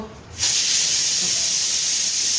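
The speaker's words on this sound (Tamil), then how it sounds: "இப்போ 6-7 விசில் கிட்ட வந்துருச்சு." A pressure cooker of mutton, onion, tomato and green chilli lets out a sudden loud, steady hiss of escaping steam after a quiet moment, close by and continuing without talk.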